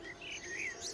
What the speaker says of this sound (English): If that was the sound of a fly, that was pretty good.